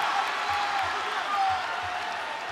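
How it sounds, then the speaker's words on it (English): A large arena crowd at a ONE fighting event roars steadily throughout, a dense, sustained wash of cheering, with a commentator talking over it. "Listen to this crowd."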